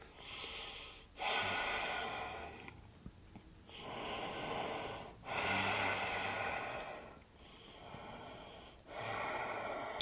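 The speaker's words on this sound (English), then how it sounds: "Relax the jaw and deepen the breath." Slow, deep yoga breathing during chair pose: four long rasping inhales and exhales in a steady rhythm, close and fairly loud, with nothing else heard.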